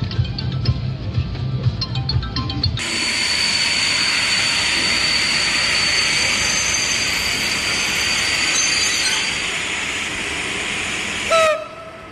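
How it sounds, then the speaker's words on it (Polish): A train rumbles past on the tracks, a loud steady roar that swells in suddenly and holds, with a brief squeal before it cuts off. "Zatrzymujemy pociąg"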